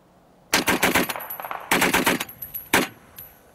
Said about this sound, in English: The Maxim machine gun.